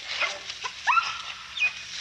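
Hunting bay dogs give short, high barks and yelps at a bayed hog, a few separate bursts over about two seconds, heard at middle distance outdoors with no talk.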